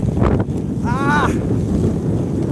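Wind gusting along a Tokyo street, a steady broadband rush with buffeting against the microphone throughout; a brief tonal whistle rises over it midway.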